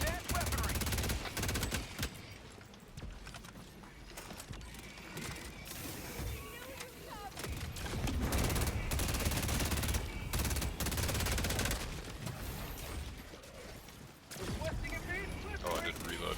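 Gunfire in Helldivers 2: dense, continuous automatic fire and explosions fill the stretch, loud and layered, with speech running through it.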